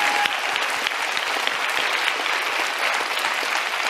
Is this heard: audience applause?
yes